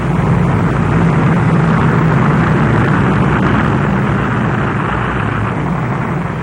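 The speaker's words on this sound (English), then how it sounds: "Giant B-36 bombers pass overhead." A 1949 presidential inauguration air parade over Washington with giant B-36 bombers and C-82 flying boxcars passing overhead, a loud, steady, broad engine roar that fills the whole stretch without talk.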